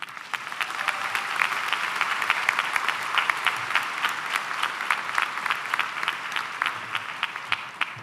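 Sustained applause from a high school commencement audience at Northwest High School, welcoming an alumna speaker to the stage; steady dense clapping throughout, fairly close and even in loudness, with no talking.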